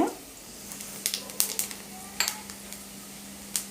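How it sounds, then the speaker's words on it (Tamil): Fennel seeds crackle and pop in hot oil, a series of sharp spattering bursts over a soft steady sizzle, close by. "நான் இப்போ சோம்பு வச்சு தான் தாளிக்கிறேன்."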